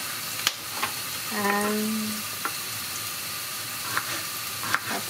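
Onions fry and sizzle softly in a pot for a one-pot vegan stew, a faint steady crackle with a few clinks of stirring, as a voice briefly speaks.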